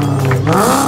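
A rebuilt Ford V6 car engine with a tuned carburetor and added exhaust revs in a brief, loud, close burst with a rough, throaty tone.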